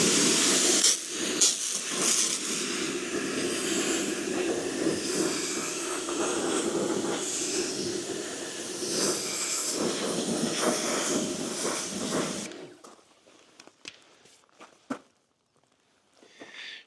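A sprayer hisses continuously as it lays citrus snow foam onto the panels of a Skoda Fabia vRS, a loud, steady spray for about twelve seconds that stops abruptly, leaving a few faint clicks and taps.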